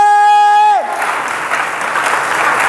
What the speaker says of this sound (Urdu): زوردار تالیاں بجائیے مسیحا کے لیے.